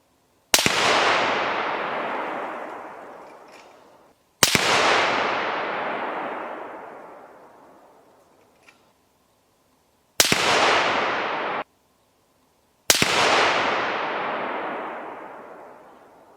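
Four loud, sharp rifle shots at a 100-yard range, each a sudden crack followed by a long rolling echo that fades over several seconds, spaced irregularly with near-silence between them.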